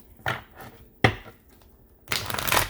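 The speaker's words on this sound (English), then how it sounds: "let's give it a shuffle" A golden tarot deck is shuffled by hand in three separate bursts of riffling card noise, close and dry, with short quiet gaps between them.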